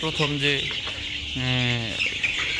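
Egyptian Fayoumi chickens on a Bangladeshi farm give two drawn-out, clear clucking calls close by over steady background noise.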